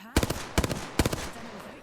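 Gunfire from Apex Legends blasting at a door: three loud, close bursts of rapid automatic shots at even intervals, each a quick rattling cluster, with a quieter tail of game ambience after the last.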